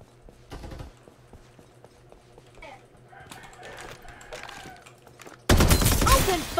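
An AK 77 assault rifle fires in the video game Farlight 84: scattered sharp shots and short bursts, then a louder, denser burst of fire near the end.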